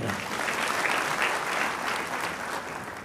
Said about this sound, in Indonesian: Nah, tepuk tangan untuk Surabaya.